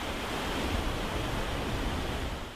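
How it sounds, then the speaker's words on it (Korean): Ocean waves washing onto a wide sandy beach at Imjado island in the morning, a steady close surf roar with light wind buffeting the microphone and no voices. "임자도의 아침은 너른 해변이 깨우는 파도 소리로 시작됩니다."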